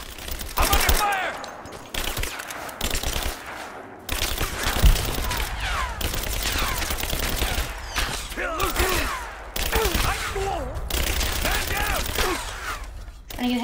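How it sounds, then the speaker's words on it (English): Enemy gunfire erupts in Rise of the Tomb Raider, bursts of automatic shots and impacts with brief breaks, mixed with game effects and character grunts. "I'm under fire!"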